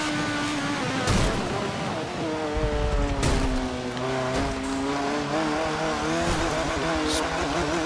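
A race car in Forza Motorsport 7 whines loudly with its engine pitch falling as it slows, with brief tire squeals and bursts of noise layered over the steady engine tone.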